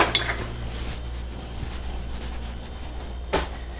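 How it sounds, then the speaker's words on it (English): Flour, baking powder and salt get mixed in a bowl for banana cake, with steady scraping and knocking of a utensil against the bowl, a couple of sharper clinks, close and moderately loud. "So I have to mix the flour with the baking powder and the salt together."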